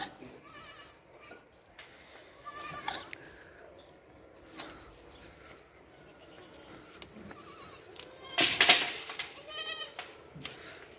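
Goats on a farm bleat in short scattered calls, some near and some farther off, with a louder burst of bleating toward the end over a quiet background.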